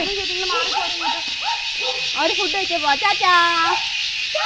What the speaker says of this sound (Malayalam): പട്ടിക്കുട്ടികളാ.